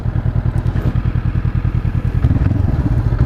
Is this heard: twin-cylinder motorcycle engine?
yes